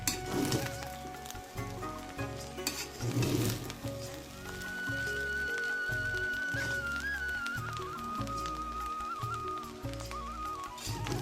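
Fried rice is stirred in a pan, a close, constant sizzle broken by repeated scraping strokes of the spatula, with faint background sounds.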